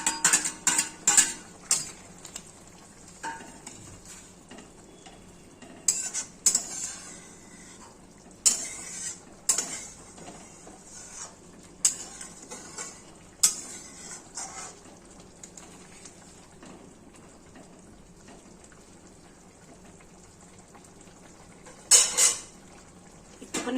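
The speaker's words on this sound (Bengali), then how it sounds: "এবার এই ডিমের অমলেটগুলি এর মধ্যে ছেড়ে দিচ্ছি।" Egg omelettes being added to a Bengali-style curry in a cooking pan, with intermittent clinks and scrapes of a utensil against metal, clustered in short bursts between quieter stretches of simmering.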